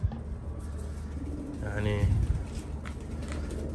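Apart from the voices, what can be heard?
pigeons cooing at bird market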